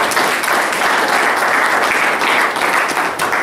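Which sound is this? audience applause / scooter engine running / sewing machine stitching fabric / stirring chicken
audience applause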